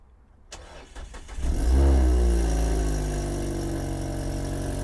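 A Dodge Shadow engine cranks and catches, then settles into a loud, rough, steady running roar with a heavy low rumble from missing exhaust pieces. It is close and continuous, with no talk.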